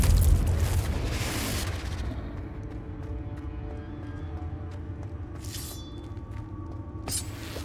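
A Confringo blasting spell explodes in the Hogwarts Legacy video game: a loud close burst at the start fades into a long rumbling tail, with a shorter crack near the end.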